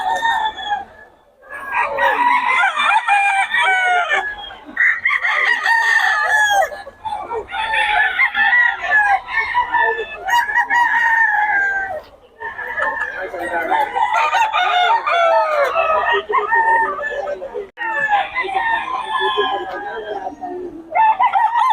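A black McRae hen for sale at a bird market gives loud, repeated clucks and crowing-like calls in close bursts, with people talking in the background.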